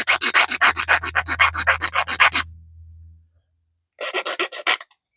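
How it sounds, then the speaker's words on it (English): Hand sanding of a small burr mark on a Mustang part: quick, evenly paced scraping strokes for about two and a half seconds, a pause, then another short run of strokes, close and clear with no talking. "I'm going to just sand off that little burr mark that's up there."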